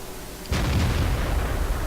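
A StuG III tank gun fires once in World of Tanks, a single sudden heavy boom followed by a rumbling, noisy tail that fills the rest of the moment.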